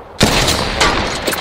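Gunfire in a video game rings out in a loud, close burst of rapid shots that rolls on without a break, with a couple of sharper cracks near the end.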